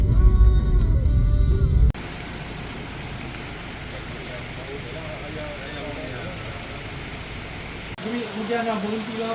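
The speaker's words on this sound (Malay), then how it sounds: "Hujan nak berhenti lah apa." Steady rain falls during an off-road trail drive on a muddy route from Rawang, a continuous wash of drops heard from inside the vehicle after a brief louder opening, with faint voices underneath.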